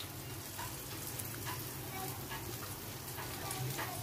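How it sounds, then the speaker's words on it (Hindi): Dahi vada batter dropped into hot oil fries with a steady, even crackling sizzle throughout, soft and continuous with faint bubbling pops. "देखिए, तेल अच्छे से गर्म हो गया है। अब हम इसमें वड़े डालेंगे।"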